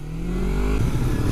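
A car exhaust revving close by, a loud low rumble that climbs briefly in pitch and then breaks into rough pulsing, alone without talk.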